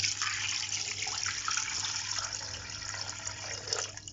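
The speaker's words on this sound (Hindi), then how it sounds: "और हम इसमें डालेंगे इतना पानी जिसमें ये मटन गल जाए।" About half a litre of water is poured into a cooking pot holding mutton for saag, a steady, close splashing rush that continues evenly throughout without talking.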